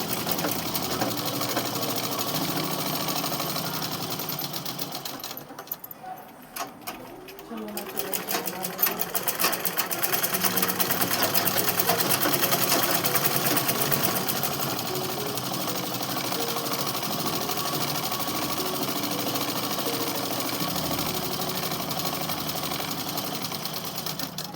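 A sewing machine runs almost continuously while stitching along the folded edge of coat suit fabric, a loud, dense mechanical whir with a brief slowdown early on, while someone talks over it.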